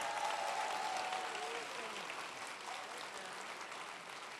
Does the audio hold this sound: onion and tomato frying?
no